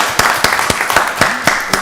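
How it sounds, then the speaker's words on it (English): A small crowd at a county board of commissioners meeting claps for the local library, loud close applause with distinct, fairly regular hand claps standing out through the brief burst. "Let's give the local library a round of applause"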